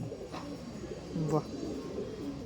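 Old original-line Madras pigeons, male and female, give a couple of soft low coos at close range over a faint room background, with a person talking nearby.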